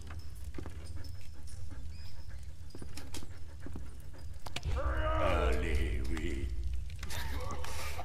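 A dog pants in the war game Valiant Hearts: The Great War, quick rhythmic breaths near and moderately loud over low rumbling game ambience, with a few spoken lines partway through.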